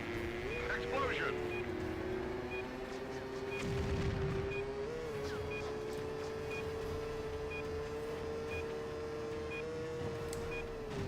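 A single explosion bursts out in the PlayStation 2 stunt-driving game Stuntman, a short rumbling blast rising over a steady engine drone and game music.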